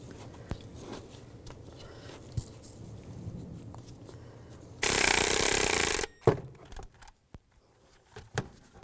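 Bolts being tightened while fitting a power steering pump on a 2005-15 Nissan Xterra: about a second of loud, steady power-tool whirring, with quieter clicks and handling knocks before and after.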